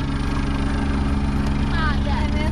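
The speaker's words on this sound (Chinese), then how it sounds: "有架直升機在上面" Helicopter flying unusually low over a hiking trail on Castle Peak in Hong Kong, a steady loud rotor drone with engine hum throughout, with a faint warbling whine rising near the end.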